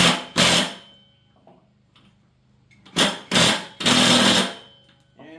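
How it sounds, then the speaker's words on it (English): An impact wrench works the blade nut on a Toro zero-turn mower spindle: one short, loud rattling burst, a quiet pause, then three close bursts in quick succession. "Then you take your impact wrench, right direction"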